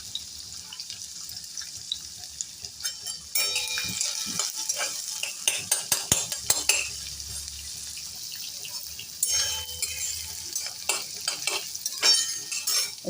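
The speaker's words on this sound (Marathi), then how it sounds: "आता आपण कांदा घालून घेऊया. तर कांदा चांगला तळून देऊया." Chopped onion sizzles in hot oil in a pan with fried peanuts for upma, and a spoon scrapes and stirs it in repeated bursts. The frying stays soft and near, with no voices.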